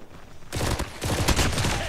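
Renetti burst SMG fired in Call of Duty Mobile. Near silence breaks into rapid, loud bursts of shots that repeat for the rest of the moment, with no talking.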